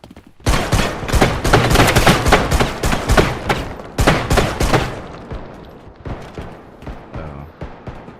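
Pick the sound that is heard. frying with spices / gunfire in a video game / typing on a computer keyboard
gunfire in a video game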